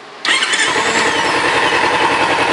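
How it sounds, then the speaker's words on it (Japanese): A Kawasaki Z250 motorcycle, nearly stock with little mileage, cranks and fires abruptly after a brief quiet moment, then settles into a loud, close, rapid idle that runs steadily to the end. "ほらこれよ、これエンジンのスタート音ね"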